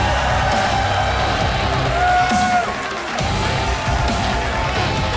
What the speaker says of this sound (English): I love the cheers from the crowd